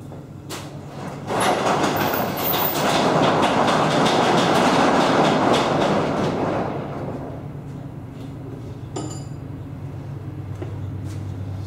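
A train rumbles past nearby with a loud, rushing roar and rhythmic clatter that builds, holds for several seconds, then fades to a steady low hum.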